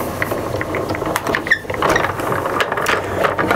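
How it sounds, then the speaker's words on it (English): A Big Shot die cutting machine winds paper through its rollers, giving a steady, close mechanical rattle and whir with soft clicks throughout, and nobody speaks. "Let's put that through the die cutting machine, through my trusty Big Shot machine"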